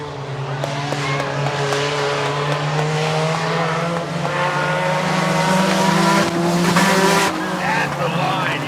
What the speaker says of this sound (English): White flag out of the 19 car of Emma Mintz.